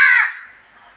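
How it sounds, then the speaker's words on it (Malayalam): A single loud crow caw rings out close by and then fades quickly into silence. "കാക്ക കാക്കയുടെ വിളിക്കുന്നു"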